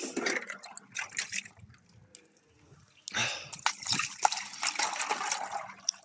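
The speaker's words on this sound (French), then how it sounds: "je vais mettre de l'eau là-dedans." Water is poured into a container in uneven splashing bursts, with a brief quiet gap in the middle before a stronger gush and trickling that runs to the end.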